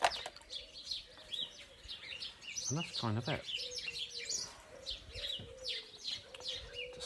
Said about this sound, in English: Oh, the birds are having a go at each other.